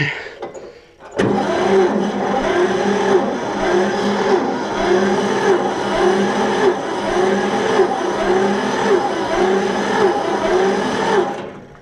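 A John Deere 70 tractor engine cranks and starts, then runs with a steady, loud, rhythmic chug close by, holding a constant pulsing drone with no one talking.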